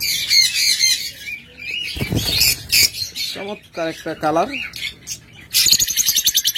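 Pet birds such as cockatiels and lovebirds squawk and chirp in a bird shop, with harsh close calls in repeated bursts and someone talking over them, ending in a dense run of rapid squawks.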